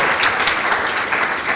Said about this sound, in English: please, everybody join me in a very warm welcome for Franklin Leonard